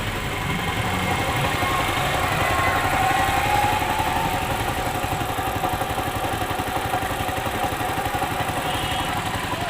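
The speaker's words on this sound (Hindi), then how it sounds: "बिल्कुल अभी धीमी गति से चल रही है। ना तो रेस बढ़ता ना घटता है।" A motorcycle engine idling at low, steady revs after a carburetor change, a close, continuous putter with an even rhythm that neither rises nor falls.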